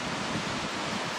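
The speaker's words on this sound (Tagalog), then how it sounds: "wala ng ulan pero napakalakas din ang alon sa mga beach resort sa lugar" Strong sea waves at a beach resort give a steady, dense roar of surf, loud and continuous throughout the brief moment, with no voices.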